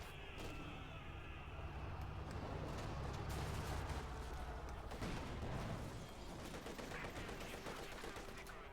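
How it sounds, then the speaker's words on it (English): Light machine guns opening up in a Company of Heroes 2 battle, steady rattling bursts mixed with distant booms and battlefield din, with a commentator talking over it. "these are opening up with the light machine guns"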